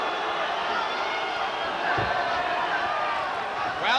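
A boxing arena crowd at the Morales vs Raheem fight swells into an excited roar, a steady dense wash of many voices with a brief surge near the middle and rising shouts at the end.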